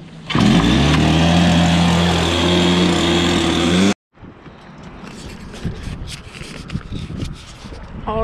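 Stihl BR430 backpack blower engine roars loudly and steadily up close for about four seconds, then cuts off abruptly, followed by quieter handling sounds and rustling.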